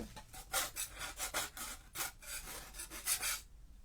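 Paper scraps scraped off a metal card-making cutting die over a bin, a close, rhythmic series of about ten rasping strokes that stop abruptly.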